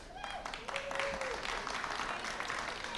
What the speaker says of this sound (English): When they clap too soon, I don't get the name.